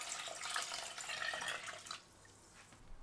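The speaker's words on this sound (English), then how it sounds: "Pour in enough water to cover the chicken completely." Water poured into a cooking pot over chicken breast with shallot, ginger and salt, a steady close splashing stream for about two seconds that then cuts off to near silence.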